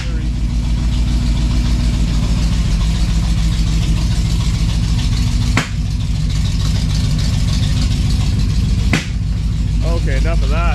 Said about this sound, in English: Really backfiring.